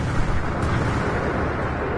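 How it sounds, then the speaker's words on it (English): Rumbling explosions in the Code Realize visual novel game, a dense continuous roar of blasts running together for two seconds, loud and broad with no clear gaps between booms. "Explosions go off one after another."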